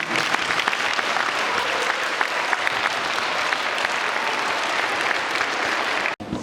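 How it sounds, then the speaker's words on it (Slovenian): Sustained applause from an audience follows a speech at a school event in Ljutomer, Slovenia, a dense, even clapping wash that carries on steadily and cuts off briefly near the end. "Moram reči, da takšnega aplavza že dolgo nisi doživela"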